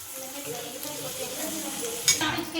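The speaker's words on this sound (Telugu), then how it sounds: "తర్వాత పచ్చిమిర్చి ఇంకా ఆనియన్స్ వేసుకొని ఫ్రై చేసుకుంటున్నాను" Green chillies and onions fry in hot oil with a steady sizzle, stirred now and then, with a sharper clatter of the spoon near the end.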